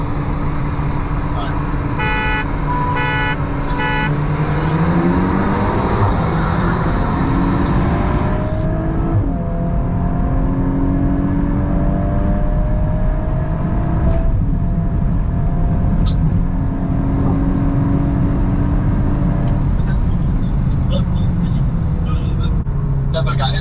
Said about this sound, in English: Let me speed up a little bit more here.